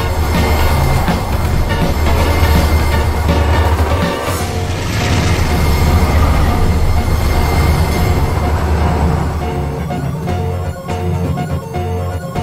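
A Penn Central train runs along the track with a sustained rolling rumble and rattling, with faint squeals and clicks throughout.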